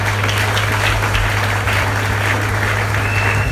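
A church congregation at a seminar service applauds steadily, a dense, loud wash of clapping hands that holds for the whole stretch with a low hum underneath.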